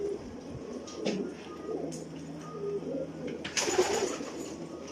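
Pigeons coo repeatedly at close range among a loft of birds, including eggplant-colored and black pigeons, with soft overlapping calls, occasional wing flutters and brief chirps over steady background noise.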